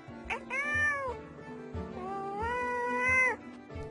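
A cat meows two long, drawn-out times, close and clear, the second call rising louder and stretching longer than the first, with no other sounds or voices around it.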